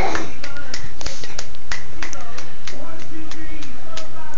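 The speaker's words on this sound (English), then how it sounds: "Clap, clap, do it." A little girl claps her hands in a string of light, sharp, close claps, irregular in rhythm, while an adult voice talks over them.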